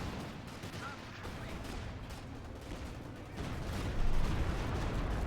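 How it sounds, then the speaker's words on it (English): Distant artillery fire rumbles through a Company of Heroes 2 battle, a dense, faint wash of booms and crackle that swells louder toward the end. "Lots of artillery fire"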